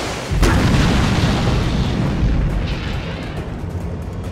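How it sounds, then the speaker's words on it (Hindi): A bomb blast destroying a bridge in a Hollywood action movie: a sudden loud boom, then a long, heavy, rumbling roar that holds steady and slowly fades, with no voices. "एक और ब्रिज उड़ाने जा रहा हूं।"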